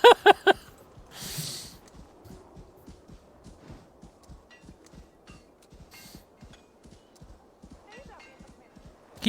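Horse hooves clip-clop at a steady walking rhythm in Assassin's Creed Valhalla, soft and even beneath occasional game sounds, with a few louder thumps at the start and a brief burst of noise early on.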